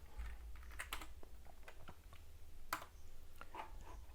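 Fingers type a command on a computer keyboard, producing scattered, quiet key clicks in an uneven rhythm over a low background hum, with no talking.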